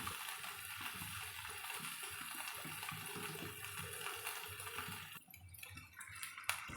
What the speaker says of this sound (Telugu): కొంచెం వాటర్ పోసి ఒకసారి కలుపుకొని